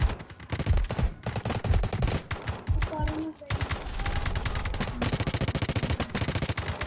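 Gunfire in the Delta Force shooter game, rapid bursts of automatic fire and single shots, loud and close, with brief gaps before a sustained stretch of firing; a voice talks intermittently in between.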